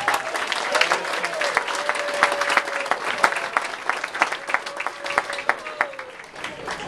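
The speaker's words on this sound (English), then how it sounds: "Let's give everybody a round of applause." Crowd applause at a 2014 Special Olympics Northern California regional bowling tournament in Concord, with steady, dense clapping and sharp individual claps that fade slightly toward the end. A faint tonal whine runs underneath.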